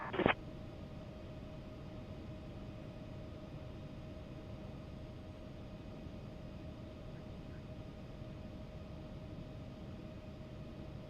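An Embraer ERJ-190 airliner taxis in the X-Plane 12 flight simulator, heard as a low, steady engine hum with a faint whine, after a short click at the start.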